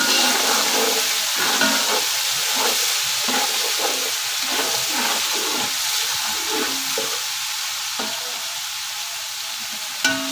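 Ginger garlic paste and spices sizzle in a hot pot while a spoon stirs and scrapes in a repeated rhythm, all close up and continuous, with no one speaking.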